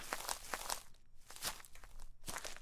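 Footsteps of a player running across crunchy ground in the video game Rust, with quick repeated crunching steps at a close, moderate level and no speech.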